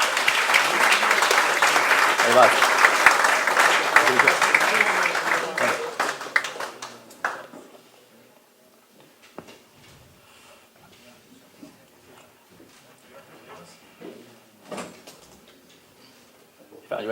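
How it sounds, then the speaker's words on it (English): Dense audience applause for a panel on a sports preview show, loud for about seven seconds before dying away to scattered handling noises and a short spoken remark. "Big round of applause."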